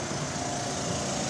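A reciprocating compressor with loose compression, due for overhaul, runs with a dense, loud, continuous mechanical drone that fills the short stretch without a break.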